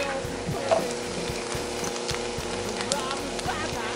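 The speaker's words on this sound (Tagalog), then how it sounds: "pagka nagbabrown na po yung ating bacon, pwede na po natin ilagay yung garlic" Bacon and garlic fry in a pan in lightly reduced oil, a dense steady sizzle with small pops and stirring scrapes, close and continuous, with a voice speaking over it.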